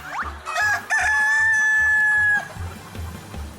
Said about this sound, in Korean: 이야, 오늘 닭들의 잔치날입니다.